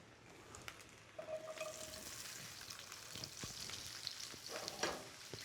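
Peppers go into a hot pan with a hoisin-glazed pork chop dish and sizzle steadily and loudly up close, with a few stirring clinks and scrapes over the frying hiss.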